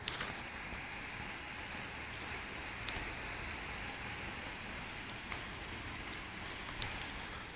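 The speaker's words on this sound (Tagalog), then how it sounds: "may naririnig kayong patak ng ulan. Umuulan dito." Steady rain patters down at 4 am in Doha, a soft, even hiss of drops with a few sharper ticks, quiet and continuous with no voices.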